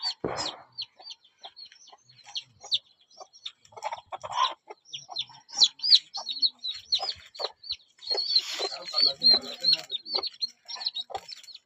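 Hens clucking and chicks peeping in a lively, continuous chorus, close by, with occasional louder squawks.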